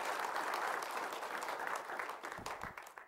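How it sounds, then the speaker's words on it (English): Church congregation clapping hands in praise during a Sunday morning service, a dense, steady wash of applause that fades out toward the end. "give the Lord a hand clap of praise"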